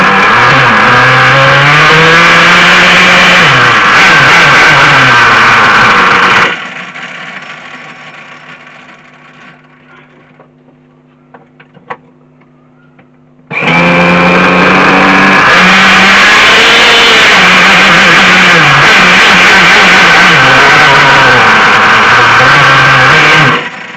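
A Flying Point Probe VXI nitro RC car engine runs loud and close, revving in a high, buzzy whine, then drops to a faint idle with scattered small clicks before roaring back to a sustained full-throttle scream.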